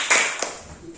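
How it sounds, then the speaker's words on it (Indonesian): A classroom of students gives a short burst of applause for group 2, the claps sharp at first and then quickly fading out within a second. "Tepuk tangan dulu untuk kelompok 2."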